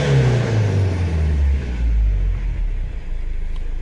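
A Cummins 2.8 diesel in a 2020 Foton van is revved hard while parked at idle, then released, the loud engine roar sweeping down and settling into a low rumble over about four seconds, with no talk.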